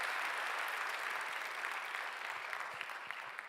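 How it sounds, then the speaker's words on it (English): Warm audience applause fills a 2018 L'Oréal-UNESCO For Women in Science awards ceremony hall, a steady, dense wash of clapping that holds for the whole stretch with no voices over it. "Elles méritent des applaudissements très chaleureux."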